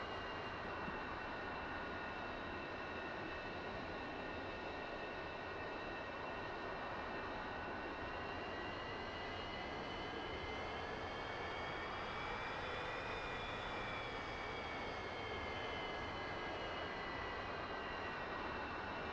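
A propeller aircraft engine drones loud and unbroken during a video game takeoff, with tonal harmonics that climb slightly in pitch midway as power builds, heard alone without talk.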